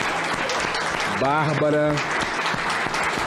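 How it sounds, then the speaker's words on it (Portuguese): A congressional chamber audience gives a standing ovation, with sustained dense applause throughout, while a voice speaks over the clapping. "aqui aplaudida de pé, a voz da sociedade"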